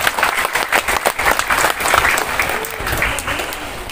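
Sustained applause from a gathered crowd at a mosque inauguration in Jeneponto, a dense, steady patter of many hands clapping across the whole stretch without pause.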